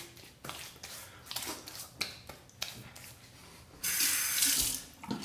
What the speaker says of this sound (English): Quick rinse on the face.